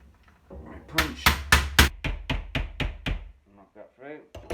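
A metal pin on an RC Cat dozer conversion is driven through with a punch and hammer: about a dozen sharp, ringing taps in quick rhythm, close and loud, with a few softer knocks after.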